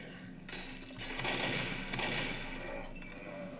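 Rapid automatic gunfire in the zombie game Left 4 Dead as players shoot the Witch, a dense, continuous rattle of shots mixed with game noise, fairly quiet overall.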